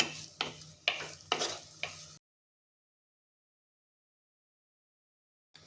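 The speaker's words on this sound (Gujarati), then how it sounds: "બધું જ આપણે અહીંયા સોસ ઉમેરીને મિક્સ કરી લઈશું" About five quick scraping strokes of a spoon stirring soy sauce and other sauces into vegetables in a pan for hot and sour soup, then silence.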